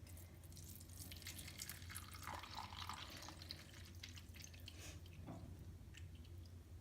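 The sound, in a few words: jelly being poured slowly into a watermelon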